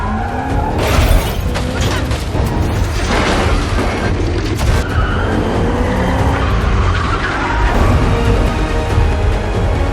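A car races at high speed during a police chase in an action film, with tires skidding hard, sharp shattering crashes and booming impacts over a dense, loud, continuous roar.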